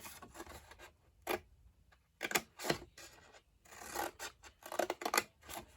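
Scissors cut through paper for a gift box in a quiet room, with several short, soft snipping and rustling bursts close by and pauses between them.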